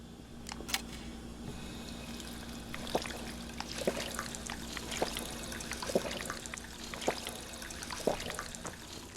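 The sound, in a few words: filling bottles with water in video game Fallout 4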